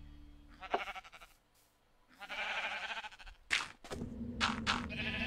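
Sheep bleating in the Minecraft video game, several separate bleats in a row, loud and close, with short gaps between them and no talking over them.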